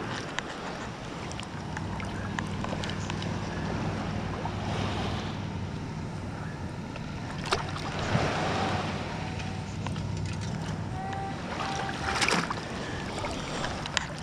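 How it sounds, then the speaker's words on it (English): River water flows steadily by a beach as a storm approaches, a continuous broad wash of moderate loudness with wind buffeting the microphone and a few faint knocks and splashes scattered through. "river sound."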